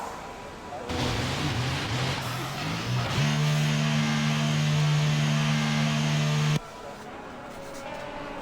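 A racing engine drones with a steady high-pitched tone, then cuts off abruptly. A low background hum remains afterward.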